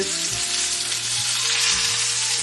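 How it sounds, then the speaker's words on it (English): Salmon skin sizzles loudly in a hot pan, a steady dense frying hiss with faint low hum underneath, close and continuous. "now what I like to do is go around the side and cook my skin"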